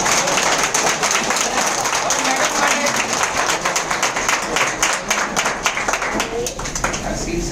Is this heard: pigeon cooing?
no